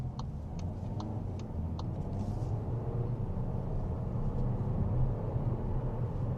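Skoda Superb SE L estate with automatic gearbox pulling away from a standstill, a low steady engine and road drone heard from inside the cabin, alongside soft rhythmic ticking early on, with no talking.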